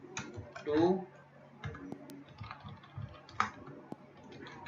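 Keys on a computer keyboard are typed in short, quiet bursts of clicks, with a person talking close by over the typing.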